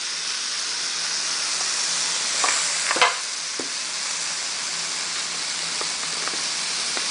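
Brazilian chicken with parsley cooks in a pan, a steady close sizzle and hiss of frying with a few sharp clicks and scrapes of stirring.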